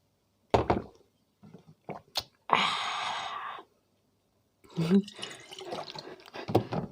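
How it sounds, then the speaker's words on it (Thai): A plastic water bottle is rinsed with water, giving a few short splashy bursts, then a steady rush of pouring, then sloshing and swishing. Short isolated sounds come first and gaps of silence fall in between. "ล้างขวดน้ำ"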